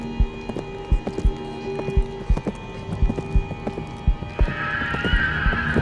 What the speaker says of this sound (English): The steps are getting closer.